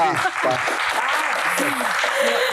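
An audience applauds in a studio during an Indonesian comedy Q&A show, the clapping steady and fairly loud throughout, mixed with music and a host's voice over it.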